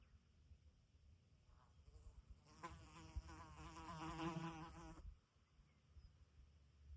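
A fly buzzes close by for a couple of seconds, its drone rising and wavering, then fading away against quiet outdoor background.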